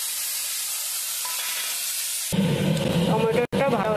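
Chopped tomato drops into a hot pan for a Bengali muri ghonto. A steady hiss gives way to a louder, denser, close-up sizzle with a brief break near the end.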